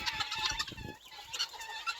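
Several hens cluck and murmur close by in a steady, busy stream, with soft rustling underneath.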